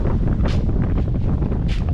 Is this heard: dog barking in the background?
no